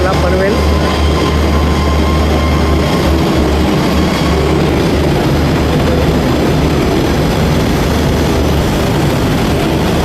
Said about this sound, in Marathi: ट्रेन येऊन पोहोचते आपली स्टेशन.